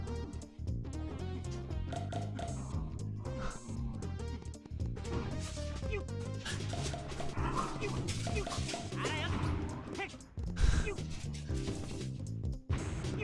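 Dogs in Mystical Ninja Starring Goemon on the N64 bark, yip and whimper in a scrappy play-fight, a dense, busy clamor over game music with sharp crashes and a voice talking throughout.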